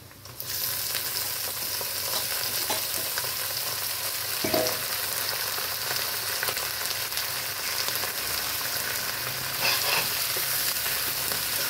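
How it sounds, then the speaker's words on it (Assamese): Duck meat sizzles and spits steadily in a hot pan after onions, with occasional stirring scrapes and no voices. "এতিয়া ভাজি ল'ম অলপ"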